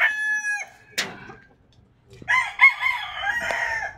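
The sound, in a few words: chickens, rooster crowing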